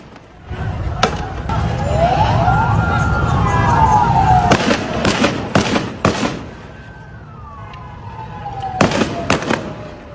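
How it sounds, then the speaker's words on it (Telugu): A street protest in Sindh, Pakistan: sharp loud bangs like gunshots crack in bursts over a rumbling crowd, while wailing sirens rise and fall, with voices mixed in throughout. "ఒక్కసారి అక్కడ ఆందోళన జరుగుతున్న శబ్దాలను మనం విందాం."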